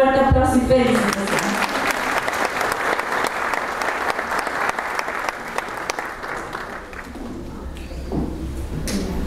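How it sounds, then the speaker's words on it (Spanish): An audience gives sustained applause at a cultural recognition ceremony in Cantón Santiago, India-free setting aside: dense, loud clapping that starts after a short spoken line and continues steadily to the end. "Un fuerte aplauso y felicitaciones"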